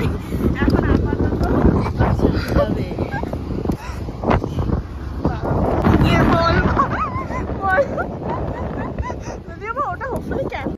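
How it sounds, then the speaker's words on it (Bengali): Strong wind gusting across an open seaside spot at Digha, roaring steadily and loudly into the microphone throughout with buffeting bursts, while people talk over it. "প্রচন্ড লেভেলের হাওয়া"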